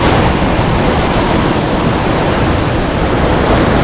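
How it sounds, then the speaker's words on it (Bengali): Tamraghumur waterfall near Jagdalpur, Chhattisgarh, swollen by monsoon rain, sends water plunging from a great height in a loud, steady, unbroken roar that fills the whole soundscape, with no voices. "এই তাম্রঘুমুর ওয়াটারফলসে দেখুন কত উঁচু থেকে এই জলটা নিচে পড়ছে"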